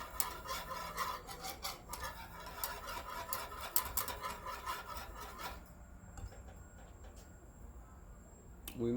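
A utensil scraping and stirring cognac sauce in a pan, quick repeated rasping strokes for several seconds that then fade to quiet, followed by a single brief scrape at the end.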